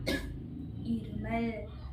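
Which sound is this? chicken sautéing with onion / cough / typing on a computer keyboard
cough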